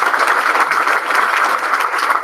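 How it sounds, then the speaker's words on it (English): Gala audience at an innovation awards event claps for the sponsors, a brief burst of steady, fairly close applause with no speech. "Please give them a round of applause."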